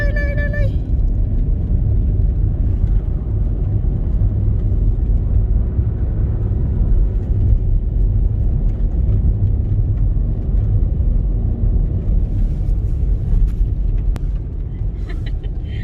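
A car climbing a snowy mountain road in Norway, heard as a continuous low, heavy rumble that stays loud and even for the whole stretch, with no voices.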